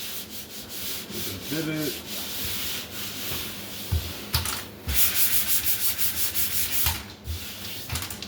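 Drywall joint compound is sanded by hand, a steady gritty rubbing scrape repeated in close strokes, with a brief spoken word partway through.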